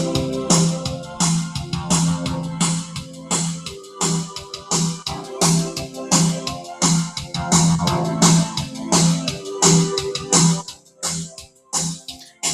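Yamaha PSR-I510 portable keyboard playing a rhythmic accompaniment pattern with Mega Boost volume levels, a steady beat of punchy bass notes and chords pulsing in bursts, loud and close, with no talking.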